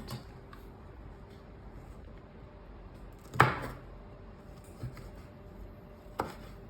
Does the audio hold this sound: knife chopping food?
yes